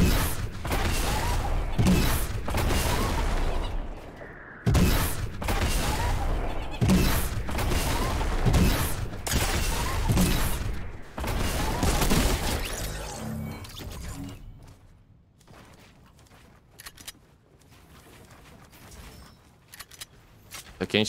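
Fortnite gunfire, rapid and loud for most of the stretch, with repeated bursts broken by short gaps, then quieter scattered game sounds near the end.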